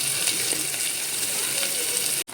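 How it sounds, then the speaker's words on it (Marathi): Onion sizzling loudly in hot oil with whole spices like black pepper, cloves and cumin, a steady dense frying hiss close up for a couple of seconds before cutting off abruptly. "आता गरम मसाले चांगले भाजले जातात ह्याच्यात कांदा टाकते"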